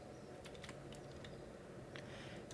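Computer keyboard keys clatter softly in a few scattered clusters, quiet and close over a steady background hum while C program code is being typed, with no voice present.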